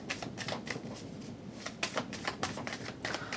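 Tarot cards being shuffled and laid out, soft quiet riffling and crisp slaps of cards in irregular bursts, close and faint, with no talking.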